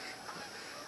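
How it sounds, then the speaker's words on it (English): Canada geese honking in the distance during a winter ice storm near an ice-covered boat, a dense chorus of overlapping honks heard faintly throughout the short stretch, with no talking. "You can probably hear all the Canada geese off in the background."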